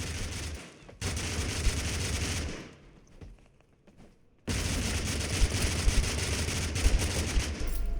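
Video game gunfire in Totally Accurate Battlegrounds: loud sustained bursts of Browning machine gun fire for about two seconds, a quieter break with scattered shots, then a long continuous fusillade.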